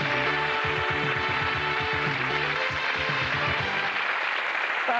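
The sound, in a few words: audience applause for departing contestant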